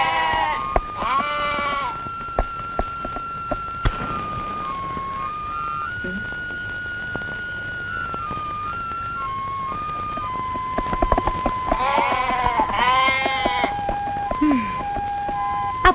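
A goat bleats repeatedly in wavering cries, two clear bursts near the start and another cluster later, over a steady background with a whistled melody playing throughout.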